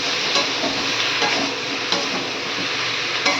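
Loud sizzling from a large kadai as chillies are stir-fried, with scraping stirs at irregular intervals over a constant hiss.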